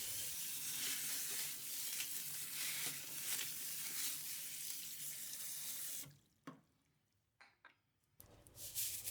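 Running water rinses a rock tumbler barrel, a steady broad splashing hiss for several seconds that stops abruptly, followed by a few faint drips and knocks.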